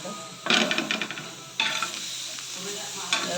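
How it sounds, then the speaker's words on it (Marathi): Chilies roast in a dry pan for thecha, with bursts of scraping and stirring over a light sizzle that come in a few distinct strokes and sound close and fairly loud. No one speaks. "असं छान डाग पडपर्यंत भाजायचं आपल्याला आधी आधी भाजून घ्यायच्या तेल टाकायच्या आधी"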